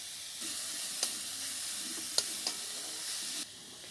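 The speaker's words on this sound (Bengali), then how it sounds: "সবগুলো উপকরণ ভালো করে আমি মিশিয়ে নিব" Momo filling of grated carrot, chopped onion and salt is stirred and mixed in a bowl, a soft steady scraping hiss for about three seconds with a few sharp clicks of the utensil against the bowl.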